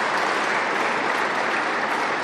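Dense, loud applause from a crowd at a government auto sector funding announcement with Unifor members in Windsor, continuous and even throughout the short stretch with no talking.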